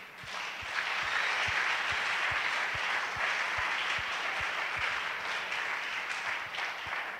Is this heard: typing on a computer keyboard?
no